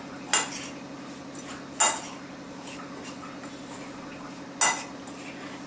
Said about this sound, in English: I'm going to add 2 tablespoons of whole wheat flour to it. And I'm going to mix this well.